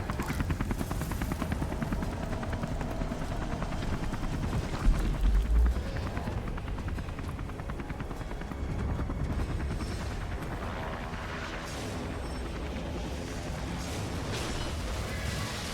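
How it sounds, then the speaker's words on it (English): Helicopter in the Beyond: Two Souls video game, a steady loud rotor roar filling the whole stretch amid dense game action noise, with a brief heavier thump midway. "Get the chopper down."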